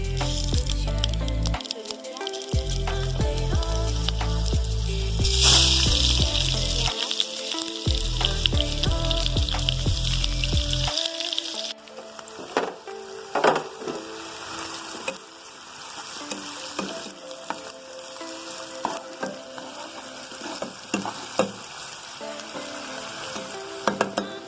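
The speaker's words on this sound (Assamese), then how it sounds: "এতিয়া মই জিৰা দিছোঁ" Cumin seeds hit hot oil in a kadai and crackle into a loud, bright sizzle, with a few stirring knocks, before the frying settles into a quieter, steady hiss with scattered pops.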